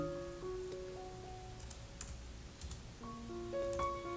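Soft keystrokes on a computer keyboard, a few scattered light taps, faint and close over a steady background hum with musical tones.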